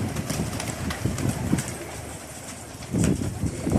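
A Belgian pigeon and others in a loft give repeated low, throaty coos, close and fairly loud, over a rumbling background with brief pauses between bursts.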